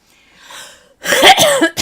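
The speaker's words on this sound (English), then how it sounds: "That's why I'm coughing." A single person coughs after hiking, with a faint breathy rasp first, then a loud, harsh cough burst and a short final hack, close and clear.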